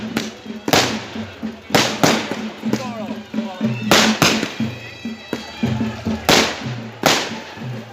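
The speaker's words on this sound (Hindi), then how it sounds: "ये हो रहे हैं मामा की तरफ से पटाखे, ये देखो" Firecrackers at a wedding celebration burst in a rapid irregular string of loud sharp cracks, about a dozen in eight seconds, close by, with voices talking and crowd noise between the blasts.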